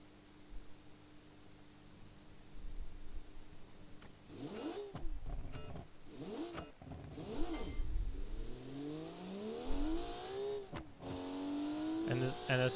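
The Armor Rallyhawk, a small boxy rally car with an inline-six turbo engine in the Classic Rally video game, revs repeatedly in sharp bursts with rising pitch sweeps, a moderately loud engine heard under a voice talking.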